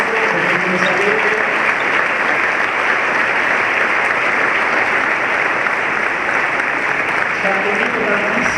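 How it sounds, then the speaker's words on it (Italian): Loud, continuous applause from a large audience welcoming a minister at an economics event, a dense unbroken wash of clapping with faint voices briefly showing through near the start and end. "un grandissimo ringraziamento, un grandissimo applauso"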